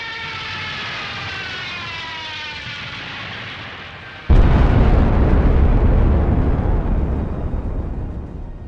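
A Stuka dive bomber's rising siren wail gives way to a sudden loud bomb blast, followed by a long roaring, crackling rumble that slowly fades.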